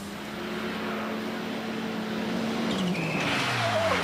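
A rally car flat out on a special stage in the 1994 Rally Charlevoix at Pointe-au-Pic, the engine droning close and loud, then revving up through a gear change with a brief tire squeal near the end.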